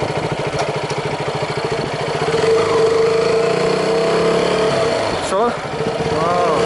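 A KTM Duke 200 motorcycle engine throbs and builds loudly and close, with a pulsing rev that holds strong before a brief dip and a renewed pull.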